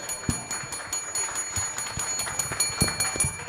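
A bell rings continuously with a metallic, rattling clang for several seconds, steady and fairly loud, at a live sports talk show set in a bar.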